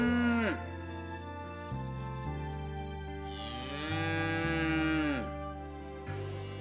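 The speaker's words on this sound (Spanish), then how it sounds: "el mugido de vacas y toros de encaste Domecq está presente en todos los" Domecq-line fighting cows and bulls mooing on a ranch, several long, loud, drawn-out bellows following one another with no other sounds.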